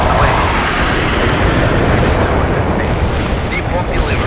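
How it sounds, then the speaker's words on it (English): Artillery barrage in the video game World in Conflict, a loud, continuous rumble of overlapping booms and blasts with no clear gaps. "Commencing the barrage. Artillery strike on the way."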